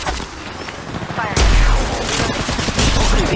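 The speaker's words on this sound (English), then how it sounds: "The enemies are shooting at me." Enemy gunfire in the mobile battle royale game Apex Legends, loud rapid bursts of automatic fire with a heavy impact boom partway through, set against other game sounds.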